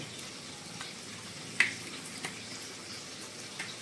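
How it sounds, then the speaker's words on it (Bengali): Pieces of rohu fish fry in a pan with a faint, even sizzle, one brief sharp pop in the middle and a couple of softer ticks, quiet and close with no talking. "আমাদের মাছ কিন্তু একদম প্রপার ভাজা হয়ে গেছে।"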